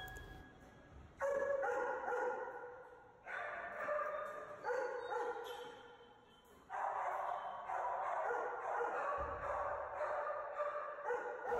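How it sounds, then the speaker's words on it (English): Shelter dog barking in frustration at a toy, repeated bursts of barks and yips at moderate distance over a steady kennel-like din, with no talk. "other dogs will bark in frustration at you or at the toy that you're holding"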